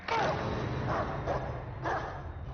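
A dog barking in a film scene, several yipping barks spaced about a second apart over a dense steady background of noise and faint voices.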